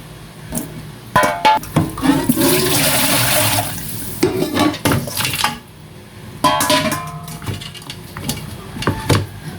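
Water runs from a tap as meat is washed, a loud splashing stream in bursts, mixed with clinks of a pot or bowl and handling noises close by.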